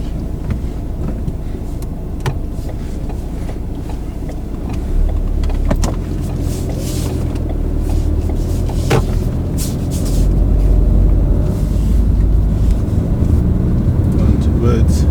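A car drives along steadily on a road, with a low engine and tyre rumble running throughout while people talk inside the car.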